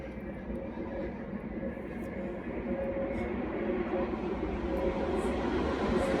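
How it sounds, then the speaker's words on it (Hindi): A crowded passenger train rolls past behind the person, a steady rumbling clatter that swells slightly and stays continuous, fairly distant and moderate in level. "मेरे पीछे ये ट्रेन जा रही है।"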